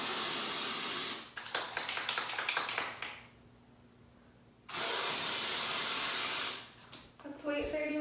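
Texture spray hissing across a discoloured living room ceiling, coming in two long steady bursts with a quiet pause between them, loud and close.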